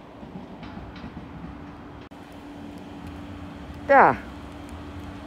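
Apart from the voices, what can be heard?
train at Den Haag Centraal station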